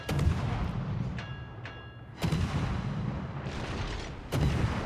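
Naval gunfire from the French battleship Alsace in a naval video game: heavy shell salvos boom out three times, a few seconds apart, each followed by a rumbling decay over continuous background noise.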